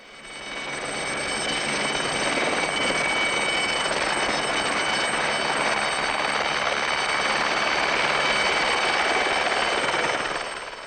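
A helicopter arriving from Pointe-à-Pitre on an overseas island, its rotor and turbine drone loud and steady throughout, with no voices over it.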